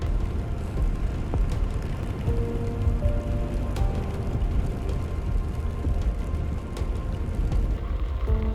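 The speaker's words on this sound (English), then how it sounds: "a few drops started hitting my visor" Raindrops pattering steadily on a motorcycle helmet visor while riding at high altitude in Tibet, a dense continuous patter over a low rumble of wind and engine.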